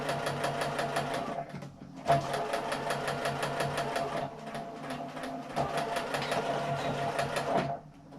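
A sewing machine stitching a hand sanitizer pouch runs in steady bursts of rapid, even stitching, with brief pauses between runs, close and clear with no talking.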